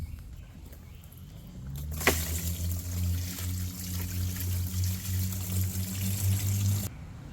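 Fluid streams steadily from a loosened hose on a 2.5L Mazda 6 engine, a close, continuous pouring trickle that starts abruptly and runs for several seconds before cutting off.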